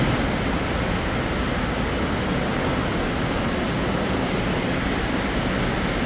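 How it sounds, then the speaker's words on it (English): Steady rushing of water flowing through the open channels of a wastewater treatment plant's headworks near a bar screen, a constant broadband roar with no pauses and no voices. "So as the water flows through these channels"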